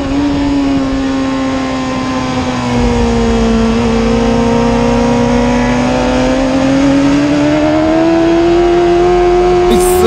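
A Suzuki Hayabusa races at the Tsukuba circuit and is heard onboard, its engine a loud continuous drone whose pitch climbs steadily as the bike accelerates down the straight, with no talk.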